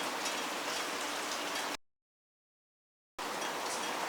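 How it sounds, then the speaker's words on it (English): Steady rain pattering outdoors, a dense hiss of drops on surfaces, broken by a stretch of dead silence before the downpour resumes. "oh, it's raining"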